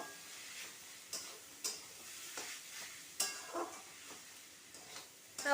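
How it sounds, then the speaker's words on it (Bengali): A spiced vegetable momo filling with garam masala and vinegar is stirred in a pan, producing a soft, faint sizzle broken by irregular scraping and tapping strokes from the spoon. "এবার এটাকে একটু নাড়াচাড়া করে নেব"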